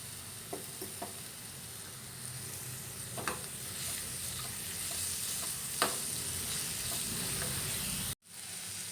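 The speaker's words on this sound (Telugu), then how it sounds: "మొత్తం మంచిగా ఫ్రై అయిన తర్వాత ఇందులో తరిగి పెట్టుకున్న బీరకాయ ముక్కలు వేసుకోవాలి" Chopped ridge gourd pieces frying in a pan, a steady soft sizzle with a few scattered scrapes and taps of stirring, quiet and close, cut off sharply near the end.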